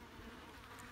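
Flies swarm and buzz steadily around food being fed to an animal, a faint continuous insect drone with no voices.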